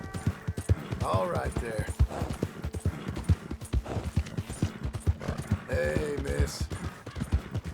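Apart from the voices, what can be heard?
horse hooves clip-clopping, video game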